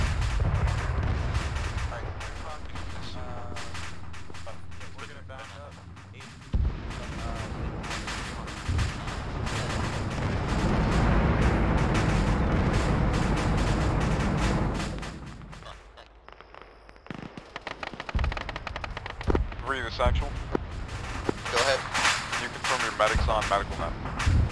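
Heavy tank cannon fire from a Leopard tank in the military game Arma 3, booming blasts and rumbling battle noise across the scene, with people talking over it throughout.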